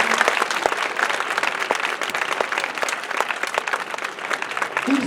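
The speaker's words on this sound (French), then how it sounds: "Je pense qu'on peut vraiment encore les applaudir fortement." An audience at a school certificate ceremony applauds steadily, a dense and even clatter of many hands clapping nearby for the full stretch, with a brief voice at the end.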